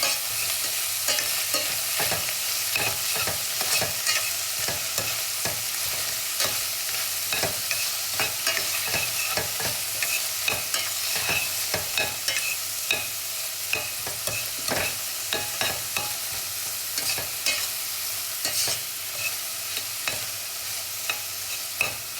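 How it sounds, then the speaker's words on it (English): Callaloo ingredients being pressed and stirred in a pot, steady scraping and stirring clicks over a soft continuous sizzle, close and alone with no talk. "I'm not trying to get it brown, I'm just pressing it so that it can bring out the flavor."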